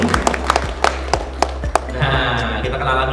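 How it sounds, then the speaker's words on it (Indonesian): A handful of sharp, separate claps in a fairly regular rhythm, close and loud, greet two volunteers at a cleaning-product presentation, followed by a steady low hum once the clapping stops. "Kasih tepuk tangan dulu untuk dua orang ini."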